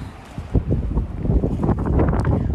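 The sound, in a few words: strong wind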